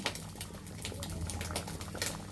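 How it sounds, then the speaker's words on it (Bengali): Liquid bubbling at a boil in a pot while kachki fish kofta steams, a dense continuous crackle of small bursting bubbles, close and moderately loud, no voices. "বলক চলে আসছে"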